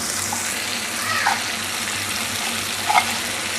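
Achar gosht masala gravy frying in oil in a pan, a steady close sizzle broken by a few soft stirring clicks, with no voices.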